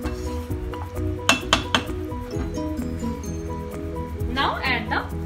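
Metal utensil clinking and scraping in a pan while egg curry masala with salt and sugar is mixed, several sharp clinks in a cluster followed by softer stirring and a brief squishy swirl near the end.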